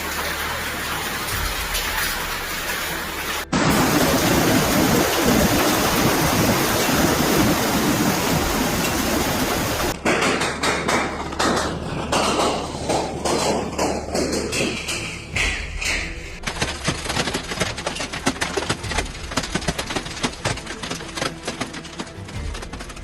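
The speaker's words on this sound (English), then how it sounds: "hailstones rained down like icy bullets" Hailstones pound down during a monster hailstorm with strong winds in Beijing, a loud, dense, unbroken clatter of ice striking surfaces. It is heard across several abrupt cuts between scenes.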